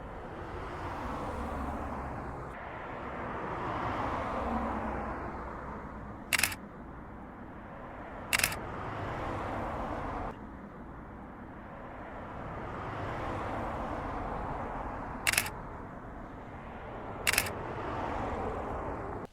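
Four sharp single-lens reflex camera shutter bursts fire in quick continuous-shooting runs, spaced apart, as cars sweep past during panning shots; the cars' swelling and fading road noise fills the gaps between them.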